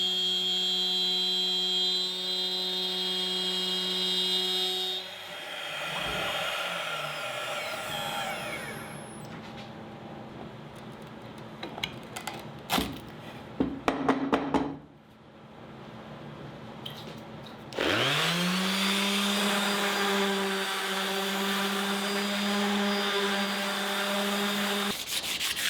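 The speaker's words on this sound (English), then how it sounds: "Lastly, I profiled the perimeter of the board," A CNC router profiling around the edge of a wooden Gloomhaven element tracker board, cutting it free: a steady, loud motor whine and grinding cut, a stretch of scraping and rubbing bursts, then the spindle spinning up again into a sustained drone, with no talk.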